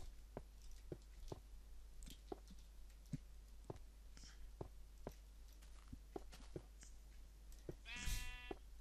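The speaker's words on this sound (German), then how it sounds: "Mäh. Oh, ich weiß schon, wo das Schaf herkommt." A Minecraft sheep lets out a single faint bleat near the end, set against soft in-game clicks and footsteps in an otherwise quiet scene.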